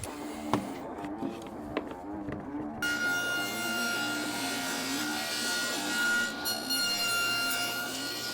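A hand saw cuts through a wooden workpiece in a steady back-and-forth rhythm of rasping strokes, close and fairly loud, then settles into a continuous scraping grind through the rest of the cut.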